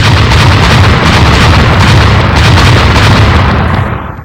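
Explosions and grenade blasts from a Wolverine and Black Cat comic story, a dense, continuous roar of booming detonations and rumbling bursts, loud and close, with no talk, fading out at the end.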